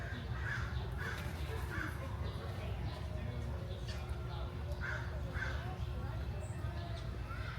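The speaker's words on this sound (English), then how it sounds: "those blackbirds that I just showed you are called the metallic starling" Metallic starlings call from tall roosting trees at a safari park, a few short harsh caws and chatters repeating at intervals over steady outdoor background noise and a low hum.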